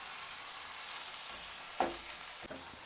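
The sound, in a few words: tomatoes frying with onion and ginger garlic paste in kadai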